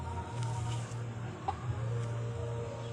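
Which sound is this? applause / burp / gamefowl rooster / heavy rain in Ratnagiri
gamefowl rooster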